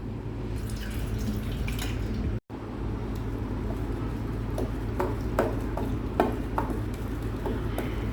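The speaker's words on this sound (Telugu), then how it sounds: "ఇదిగోండి, నీళ్ళు వంపేసి మెదుపుకుందాం" Water is drained off cooked dal for drumstick pappu, giving a steady wet trickle with scattered drips and light clinks of a vessel, briefly cut by a short silent gap.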